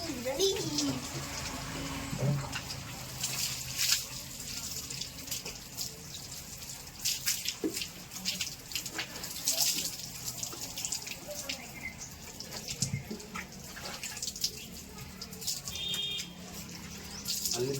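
Water splashes and runs while a motorbike is washed on a Sunday, a steady, fairly close wash of running water with occasional knocks and a voice speaking now and then over it.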